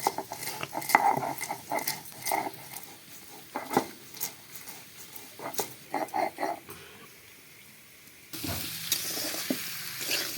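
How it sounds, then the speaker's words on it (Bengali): Mixed vegetables fry in a pan, with a utensil scraping and stirring in uneven bursts over a steady sizzle. The sizzle swells louder near the end. No one speaks. "আমাদের সবজি কষানো হয়ে গেছে।"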